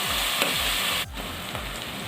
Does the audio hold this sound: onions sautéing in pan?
yes